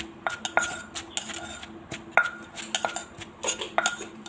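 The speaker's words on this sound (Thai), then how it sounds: "ตำก่อนโขลกก่อนนะ" Som tam papaya salad is pounded in a mortar, giving irregular close knocks and clinks of pestle and utensils with faint rustling in between, at a moderate, uneven rhythm.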